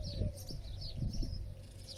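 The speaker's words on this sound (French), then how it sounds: "Les oiseaux chantent comme ça, comme vous pouvez l'entendre, depuis à peu près 6 heures du matin." Morning birds, including cooing pigeons or doves, sing softly in the distance outdoors, with faint scattered chirps and calls over a quiet background.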